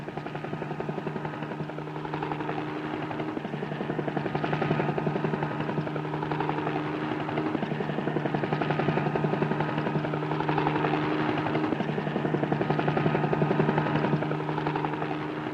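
A helicopter in flight drones steadily with a constant rotor and engine roar, loud and close throughout, with no voices.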